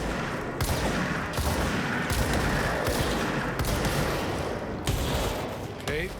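Gunfire in the video game Control: Ultimate Edition, with dense, repeated shots and impacts rattling over several seconds as a player talks over the action.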